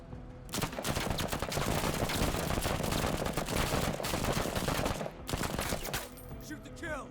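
Sustained automatic gunfire in the sci-fi turn-based tactics game Menace, a dense continuous barrage of rapid shots lasting several seconds, briefly pausing near the end before a final burst and fading.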